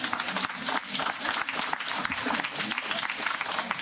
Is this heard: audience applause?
yes